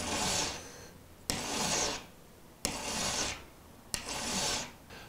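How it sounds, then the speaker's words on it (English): A hand file rasps across a game fishing hook in four long, steady strokes, each starting with a sharp scrape and pausing briefly before the next. "It's important to keep the file nice and flat."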